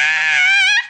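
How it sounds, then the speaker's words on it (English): A person lets out one loud, sustained, high-pitched scream lasting under a second, close and alone, its pitch wavering slightly before cutting off abruptly. "Sometimes you just gotta scream."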